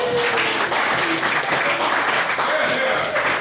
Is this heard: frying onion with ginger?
no